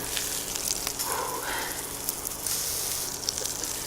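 Burger patty frying in butter on a griddle, a steady soft sizzle and crackle with faint spitting, moderately quiet and heard alone without talk.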